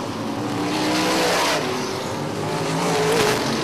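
Sprint race cars roar into turn 1 in a close pack, engines loud and sustained with rising and falling pitches as the field sweeps through the corner, tires faintly scrubbing.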